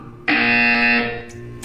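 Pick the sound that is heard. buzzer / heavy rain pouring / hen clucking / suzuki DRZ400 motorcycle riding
buzzer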